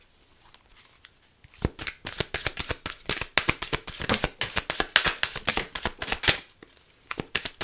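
A deck of reading cards is shuffled by hand, with rapid riffling and slapping bursts in an irregular run, close and fairly loud, and a short pause before a final few snaps.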